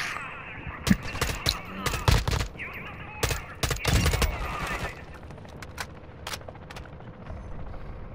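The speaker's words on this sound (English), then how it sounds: "I'm coming over this way because they're shooting behind us." Gunfire in a Call of Duty match on the Vondel map, rapid bursts of shots clustered early then thinning to scattered single cracks, with players talking over it.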